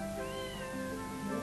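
A cat gives a single drawn-out, tonal meow, heard close and clear against a quiet background.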